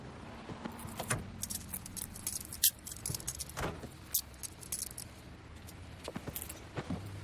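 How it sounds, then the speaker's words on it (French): Handcuffs are unlocked and slipped off with a close run of light metallic jingles, clicks and rattles, scattered irregularly over several seconds against a quiet background. "Je veux juste t'enlever tes menottes."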